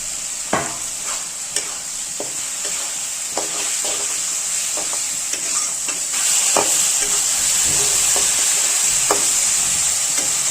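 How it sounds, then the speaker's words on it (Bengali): Spice paste fries in oil for katla fish curry with a steady close sizzle and spoon clicks against the pan. The sizzle swells louder midway as tomatoes go in. "দেখতে পাচ্ছেন আমাদের মশলাটা ভাজা হয়ে গেছে, তেল ছেড়ে দিচ্ছে।"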